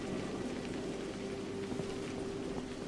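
Steady rain in the video game A Highland Song, a soft continuous hiss of falling drops over a low ambient tone, alone with no talk.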